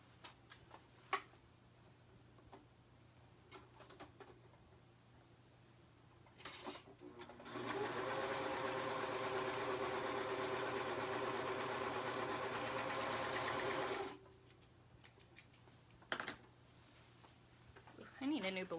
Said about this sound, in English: start right here at the very top and serge down there